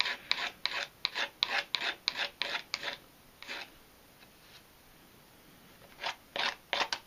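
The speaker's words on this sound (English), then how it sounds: "You just want to sand through it nice and neatly." Sandpaper rasping back and forth through grip tape on an old-school fingerboard, a run of about nine close, even scrubbing strokes, a lone stroke, a pause, then three more strokes.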